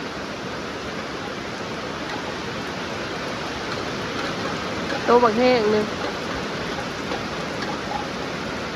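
Steady rain falling outdoors, a continuous hiss throughout with a short stretch of voice partway through.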